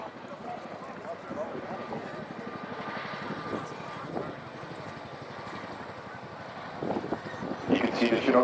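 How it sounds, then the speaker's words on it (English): A Chinook twin-rotor helicopter flies a display at the RAF Cosford Air Show 2024, its rapid rotor chop pulsing steadily at mid distance as a public-address announcer speaks over it. "please turn your eyes to the sky for the 2024 Chinook roll demonstration."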